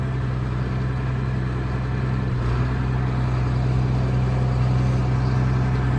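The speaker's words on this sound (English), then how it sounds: "So we're gonna pop the RPMs up to about 1500." A 1992 John Deere 4055 tractor engine runs at a steady, loud drone close by, holding an even pitch with a slight rise partway through and no talking.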